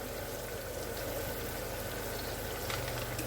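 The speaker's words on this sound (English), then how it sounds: "Let that simmer some more." Mushroom gravy simmering in a pan alongside hamburger steak, a soft, steady bubbling and popping at low volume with no talk, constant throughout.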